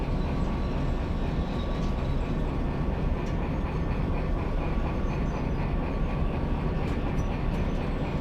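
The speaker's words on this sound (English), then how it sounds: "Lots of train in the very slow curve." A long train in the Derail Valley game rolls slowly through a curve, giving a steady continuous low rumble with a faint sustained squeal and occasional light clicks, alone without talk.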